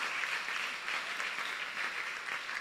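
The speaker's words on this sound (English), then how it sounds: "I think we can clap for ourselves for our commitment throughout the whole week." A church congregation claps during an Easter evening service, with dense, fairly quiet applause that holds steady throughout and no talking.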